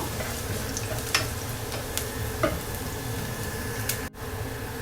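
Food toasting in a frying pan until crisp and golden brown, the base for sautéed sponge gourd (ginisang patola): a steady, even sizzle with a few soft stirring clicks.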